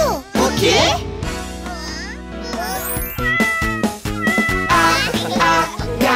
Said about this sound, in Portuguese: Ah, ah, gatinho fofo. O gato está na caixa.